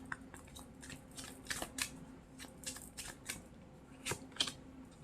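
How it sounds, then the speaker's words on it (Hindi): Tarot cards are shuffled by hand close by, giving quiet, irregular snaps and riffling clicks over soft background noise. "मैं फिर से शफल करती हूँ।"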